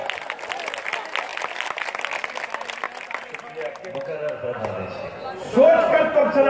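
Audience applause at an all-India mushaira poetry recital, a dense crowd clapping that carries for a few seconds, then fades as a voice comes in over the hall.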